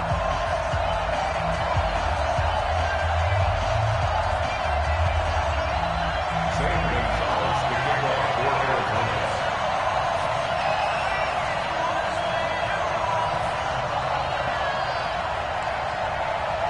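A stadium crowd roars steadily in an EA Sports football video game before an Arizona Cardinals vs Seattle Seahawks matchup, a dense, continuous wash of cheering that stays loud throughout.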